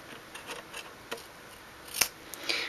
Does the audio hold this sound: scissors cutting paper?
yes